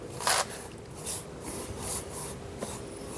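A brush spreads adhesion primer across a cracked wall ahead of waterproof siliconing, making soft repeated rubbing strokes, about four or five sweeps, each a brief close swish.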